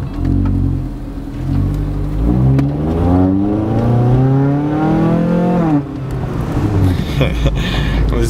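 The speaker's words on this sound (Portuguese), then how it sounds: "Eu não sei se dentro do carro vai dar pra escutar muito bem o ronco" An 18-year-old car's engine roars as it drives and accelerates, heard from inside the cabin, with repeated rising revs through the gears, loud and continuous, and some faint talk mixed in.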